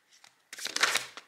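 Tarot cards are shuffled and handled in a short burst of close, crisp papery riffling and flicking after a couple of soft taps.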